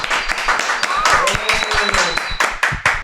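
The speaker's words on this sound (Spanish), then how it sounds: "un aplauso para los dos personas que me están acompañando" Scattered audience clapping greets two guests at a youth leaders' event in Medellín, uneven individual claps mixed with voices and cheering talk throughout.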